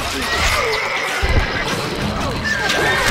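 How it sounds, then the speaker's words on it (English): A horse whinnies loudly in Stronghold Crusader, with galloping hoofbeats and game sound effects running continuously under it. "الفرس تعدو."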